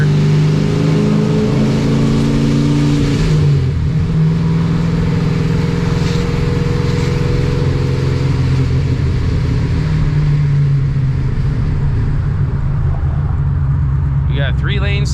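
Supercharged C6 Corvette making about 800 hp, accelerating hard away from the curb with its blow-off valve off: a loud, close, continuous engine roar with rising revs that fills the whole stretch.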